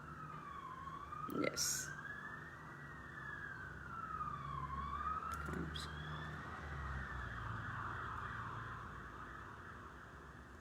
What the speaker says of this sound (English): He's just heard the sirens and he's saying that I've just had I think ambulance or police go past.